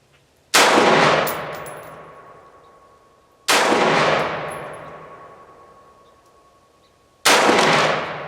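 A custom AR-15 with an FN 1-in-7 barrel fires 62-grain rounds at a range. There are three loud, evenly spaced single shots, each a sharp crack followed by a long echoing decay, with no talking.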